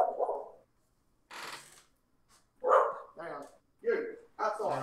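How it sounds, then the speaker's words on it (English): A dog barks indoors in a few short, separate yaps mixed in with people talking, the barks moderately close and about as loud as the voices. "Not trying to stop the dog from barking."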